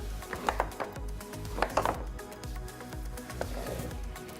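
A wooden inertial labyrinth board is jerked sharply so that a metal nut slides across it. Close, fairly quiet knocks and rattling clacks come in irregular clusters, with no talking.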